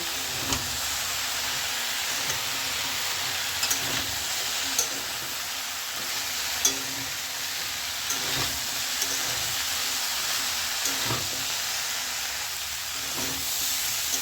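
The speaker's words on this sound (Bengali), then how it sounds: "এবার ভালো করে একটু নেড়ে চেড়ে দিচ্ছি।" Vegetarian pumpkin curry with turmeric and chili powder is stirred in a pan, giving a steady loud sizzling hiss broken by occasional sharp spoon scrapes and taps against the pan; no one speaks.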